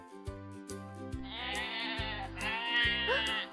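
A sheep bleats in a wavering, drawn-out cry that swells toward the end, heard clearly over a steady musical backing at a farm.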